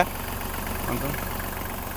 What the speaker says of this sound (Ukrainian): Під капотом ми маємо, як я і казав раніше, трьохциліндровий дизельний двигун.